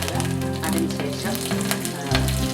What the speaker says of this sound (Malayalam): കടുക് പൊട്ടിയതിനു ശേഷം